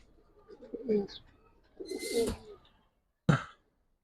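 Giribaz and coloured pigeons in a loft give two soft, rolling coos close by, followed by a sharp brief flutter or call, with quiet pauses between.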